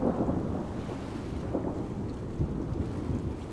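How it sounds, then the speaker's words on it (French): A thunderstorm on the coast, with a dense, continuous roar of rain and deep rolling thunder, loud and steady throughout, with no voices. "un nouvel orage s'annonce sur le littoral"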